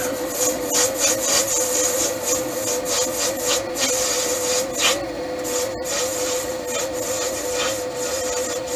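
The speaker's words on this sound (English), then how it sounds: "I'm just facing it off now to get it to right thickness, and make a decent face to it" A lathe facing off a part mounted on an arbor during restoration of a Kaiser Universe, giving a steady, close scraping and rubbing of the cutting tool with a constant machine hum and small irregular bumps.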